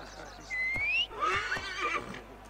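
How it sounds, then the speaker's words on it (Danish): A horse neighs in the Assassin's Creed Origins video game, a rising whinny followed by a longer, louder bray-like call, close and clear over faint background ambience with no talk. "Der var en hest."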